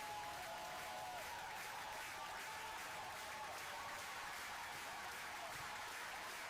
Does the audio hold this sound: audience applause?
yes